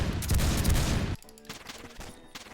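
Gunfire from the first-person shooter Phantom Forces, a dense burst of rapid shots for about a second, then quieter scattered game sounds and a few distant pops.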